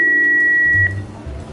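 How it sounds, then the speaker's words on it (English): A single steady electronic answering-machine beep, loud and clean, holds for under a second before cutting off, leaving a faint low room rumble behind. "Please leave a message at the beep"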